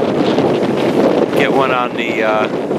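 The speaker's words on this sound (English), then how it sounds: "It's just very, very, very windy." Strong wind at a beach pier buffets the microphone in a steady low roar, with a faint voice and a brief higher whistling tone partway through.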